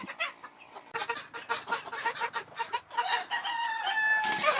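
Young cockerels crowing repeatedly in a free-range area, several overlapping cock-a-doodle-doo calls with clucking, fairly close and continuous, no talk.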